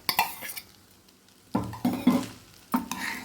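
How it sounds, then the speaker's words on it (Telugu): Egg fried rice being stirred in a pan over full flame, with scraping clatter of a spoon against the pan in irregular bursts over a soft sizzle, close and with no talking. "ఫుల్ ఫ్లేమ్లో పెట్టి కలుపుతూ ఉండాలి"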